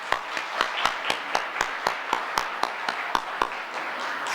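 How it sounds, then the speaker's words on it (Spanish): Applause from the audience at a forum panel on drugs in the State of Mexico, heard as a steady run of sharp, evenly spaced claps over a continuous bed of crowd clapping, moderately close, with no talking. "licenciada Girari Sinaí Velázquez Morales, a quien pido un gran aplauso."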